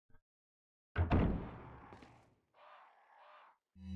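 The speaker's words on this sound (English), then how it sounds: "Is that crows?" In Resident Evil 4, a dull thump and rumble is followed by a single hoarse crow caw, drawn out for about a second in an otherwise quiet space.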